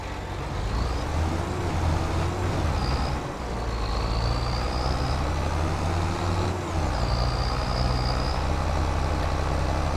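Road traffic with trucks in Farming Simulator 25 rumbles steadily as a close, continuous low engine drone, with brief whining tones from passing vehicles rising over it several times.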